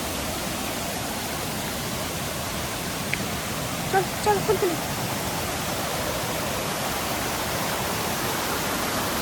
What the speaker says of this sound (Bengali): এই ব্রিজ আর এই ছোট্ট ঝর্ণাটা হচ্ছে one of my favourite places in প্যারেন।